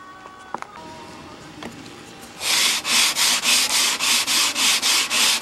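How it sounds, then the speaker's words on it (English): Rhythmic strokes of sticky-back sandpaper on a flat table rubbing wood, about a dozen even back-and-forth passes, close and loud after a few quiet knocks. "A good old sanding,"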